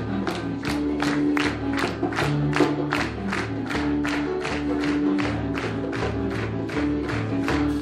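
A crowd at a university Christmas lecture claps along in a steady rhythm, about two claps a second, loud and close, mixed with sung voices and cheering.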